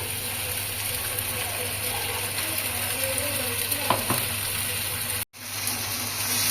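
Onion, garlic and ginger paste frying in oil sends up a steady, close sizzle with a soft stirring scrape partway through, then cuts out abruptly for an instant before the sizzle resumes.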